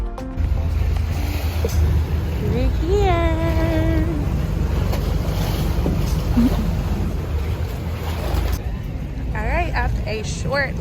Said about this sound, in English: So the tender is starting to move.